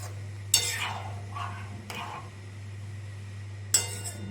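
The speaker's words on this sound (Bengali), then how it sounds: "এই পনিরটা দিয়ে আমি কিছুক্ষণ নাড়াচাড়া করে নেব।" A utensil stirs fried paneer through a thick gravy in a pan. Two sharp clinks against the metal stand out, and softer scraping strokes fill the space between them over a faint steady hum.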